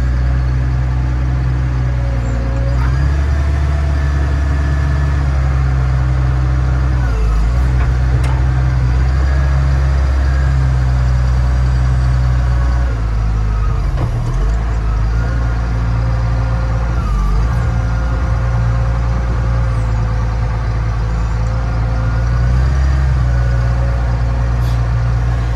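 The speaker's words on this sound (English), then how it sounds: "might as well go ahead and lift the bucket so you can see it operating" A Komatsu WA420 wheel loader runs with a steady, loud low diesel rumble as its bucket is lifted and tipped, with brief dips and shifts in engine load marking the hydraulic movements.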